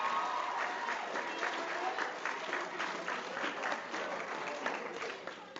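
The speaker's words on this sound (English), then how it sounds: "So let's give yourselves a round of applause." Students in an event audience clap together in a steady, sustained round of applause, moderately loud and even throughout, with no voices rising above it.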